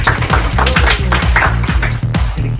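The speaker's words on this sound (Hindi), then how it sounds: "अच्छा लगा तो तालियां।" Audience applause at a stage performance, a dense run of clapping with regular rhythmic beats, loud and close, fading slightly toward the end.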